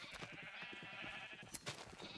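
Minecraft sheep bleat in quick, overlapping wavering cries, loud and close in a steady run of game sound.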